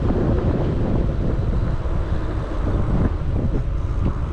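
A breezy day outdoors brings steady, loud wind buffeting the microphone as a constant low roar for a few seconds, with no talk.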